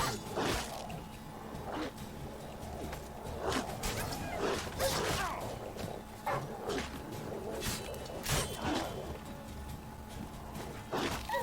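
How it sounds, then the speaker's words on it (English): Vicious wild dogs in The Witcher 3 video game bark and yelp in sharp, repeated bursts over a low ambient bed, with the loudest barks clustered in the middle and near the end. "These are vicious wild dogs."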